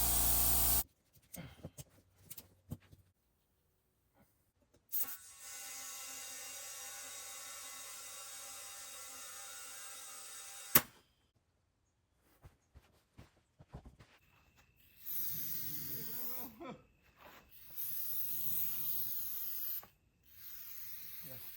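An aerosol can of starting fluid sprays into an Arctic Cat 400 4x4 ATV engine in long, steady hissing bursts with pauses between them and occasional clicks and clatter.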